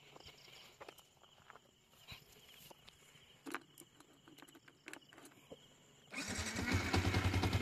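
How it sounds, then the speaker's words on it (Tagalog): Quiet shuffling and small knocks, then a motorcycle engine starts and settles into a loud, steady rumble for the last seconds, in the Philippines. "So, start ko na yung motor."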